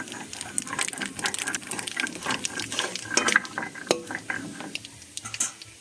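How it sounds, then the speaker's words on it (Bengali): Nigella seeds dropped into hot oil for tempering give a busy, close crackle of rapid small pops and sizzles that thins out toward the end, with no talking. "ওই তেলের ভিতরে দিয়ে দিচ্ছি ফোড়নের জন্য কালো জিরে"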